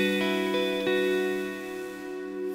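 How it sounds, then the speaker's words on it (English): A reverb plugin, the Neunaber Wet Reverberator, with its bit depth crushed down to one bit, rings out steady, buzzy harmonic tones with a harsh, grainy edge and a few faint plucked onsets, sustaining evenly throughout. "the bit depth and really crush your reverb"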